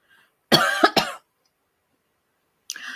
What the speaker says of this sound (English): I'm scared to cough in public anymore.